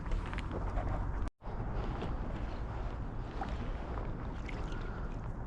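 Inflatable canoe paddling across Loch Lomond toward an island, with a steady wash of water and wind noise close to the microphone and one brief dropout early on.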